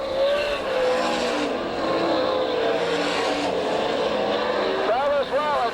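Sprint race cars in a dirt-oval heat race at Tulsa, a loud sustained engine roar with rising and falling pitch as cars pass and accelerate, under a race announcer's commentary.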